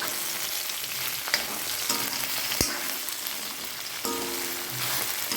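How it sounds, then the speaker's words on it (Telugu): Green chillies and okra fry in a pan, a continuous crackling sizzle with occasional stirring clinks and pops, close and fairly even throughout. "పచ్చిమిర్చి బెండకాయలు అన్నీ ఫ్రై అయ్యే వరకు"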